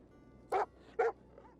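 A dog in the video game Divinity Original Sin 2 gives two short, sharp barks about half a second apart, fairly quiet over a near-silent background.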